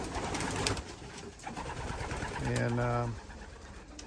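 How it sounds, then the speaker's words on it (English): Pedigree racing pigeons coo inside a loft, soft repeated throaty calls that swell near the end, with a brief voice speaking in the background. "I have some really top pedigree birds in here,"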